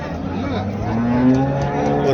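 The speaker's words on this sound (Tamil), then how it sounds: "இது ஹெச்எஃப் மாடு." A Holstein Friesian cow at a cattle market lets out a loud, close, drawn-out moo, with busy crowd noise behind it.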